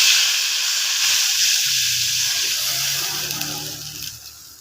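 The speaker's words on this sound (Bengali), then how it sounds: "এখন আমি ঝোলটাকে দিয়ে দেবো।" Broth poured into a pan of potato curry that has been fried down until the potatoes are cooked, giving a steady loud hiss and sizzle with a liquid wash, gradually easing off toward the end.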